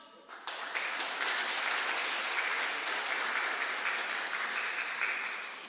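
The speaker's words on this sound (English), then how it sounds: "very big applause" A conference audience breaks into applause after a professor's talk at a rural development event, clapping starting abruptly and holding as an even, dense patter for several seconds before tapering slightly.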